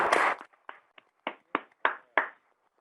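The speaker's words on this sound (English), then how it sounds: "Round of applause for our new Alderman." Scattered hand claps greeting a new alderman at a Waterbury Board of Aldermen meeting, a brief burst followed by about six separate, evenly spaced claps in a quiet room.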